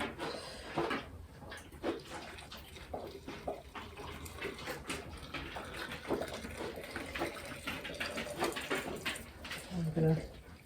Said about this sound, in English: And then we top it up with fresh boiling water.